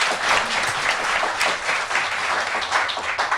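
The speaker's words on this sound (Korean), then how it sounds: "박수를 보냅니다. 박수 한번 부탁드립니다." Dense, steady applause from a large audience at a live talk-show taping, many hands clapping together at close range, with a little crowd noise mixed in.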